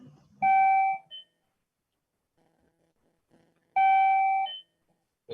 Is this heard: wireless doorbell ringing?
yes